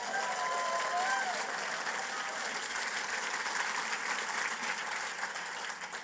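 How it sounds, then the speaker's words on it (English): A crowd at a Nikki Haley presidential primary rally applauds steadily and loudly throughout, with scattered cheers and whistles mixed into the clapping. "Can we get a round of applause for that?"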